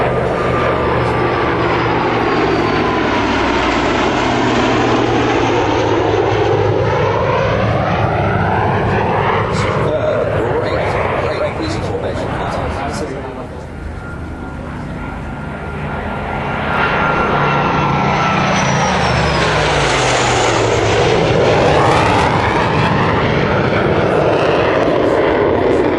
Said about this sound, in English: Look at that aeroplane go